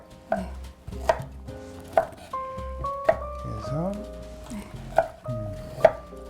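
Knife chopping broccoli and vegetables on a cutting board in a home kitchen, about seven sharp, evenly spaced chops close up, with a soft music bed underneath.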